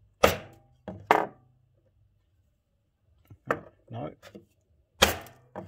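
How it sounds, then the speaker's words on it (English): Rivet on a 3D-printed Polish Enigma machine being tapped out with a nail used as a punch: sharp, close metallic taps in small clusters separated by pauses, with a brief spoken word between them. "And then you can tap that rivet out."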